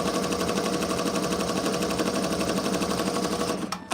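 A Ricoma MT-1501 embroidery machine runs steadily at close range, its rapid rhythmic stitching loud and constant, then stopping abruptly near the end.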